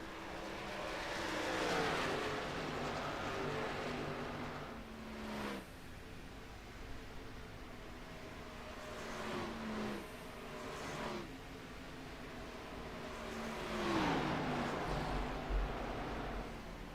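Stock cars from an Xfinity-style race at Homestead-Miami in a sim racing game roar past in repeated waves, engines rising and falling in pitch as several cars sweep by close, with a brief tire squeal near the end.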